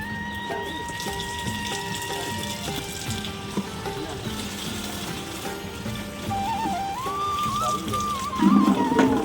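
Water runs from a pump tap into containers in a continuous rushing splash, with a faint tonal hum beneath and a slight rise in pitch toward the end as a vessel fills.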